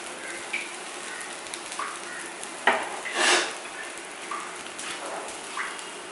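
An omelette cooking on a low flame in a pan, a soft continuous sizzle broken by a few light clinks and scrapes of a utensil against the pan.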